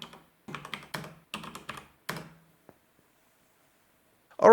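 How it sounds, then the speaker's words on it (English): Bursts of rapid key clacks from mechanical switches on a homemade Commodore 64–style portable laptop, several clustered runs of keystrokes then a pause and a single faint tap, close and clear with no talk. "The key switches sound really satisfying, and I couldn't be happier with how it feels to type on this thing."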